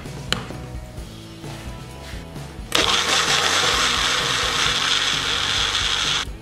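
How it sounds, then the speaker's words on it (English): An electric blender blends roasted capsicum and chili sauce with palm sugar and lime juice. After a few seconds of quiet clinking, the motor kicks in abruptly with a loud, steady, grinding whir that holds to the end. "Now we're going to blend."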